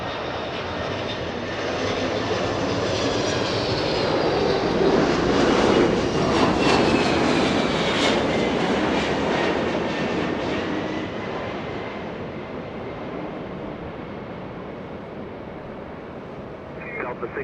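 An Alaska Airlines jet lands on runway 24 right at Los Angeles International Airport, its engines making a loud, sustained roar that rises and then slowly fades over many seconds, heard from nearby on the ground.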